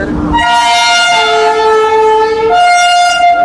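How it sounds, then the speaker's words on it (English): A train horn blares loudly and up close as a passenger train pulls into a station, holding one long tone, dropping in pitch, then sounding again. "Train is coming now."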